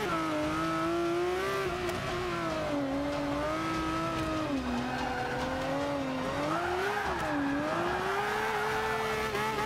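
Race car from the driving game Forza 5 lapping a track, its engine droning loud and steady throughout with pitch rising and falling through shifts and turns, faint tire noise underneath.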